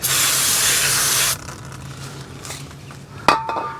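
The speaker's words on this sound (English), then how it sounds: "I'm just going to spray that real quick with some brake cleaner." A loud, steady aerosol brake cleaner spray hisses onto a Ford Escape brake rotor for over a second, then stops; faint clinks and a brief sharp metallic tap follow.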